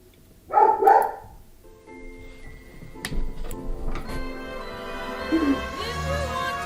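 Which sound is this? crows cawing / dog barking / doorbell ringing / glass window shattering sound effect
dog barking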